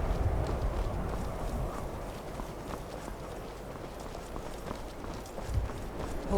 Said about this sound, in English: Horses, all day long.